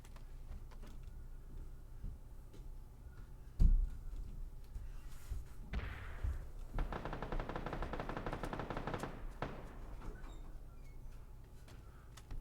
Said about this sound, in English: Yeah, that's the guy firing from the house. He's got an AK in there.